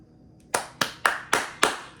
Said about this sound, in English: claps for you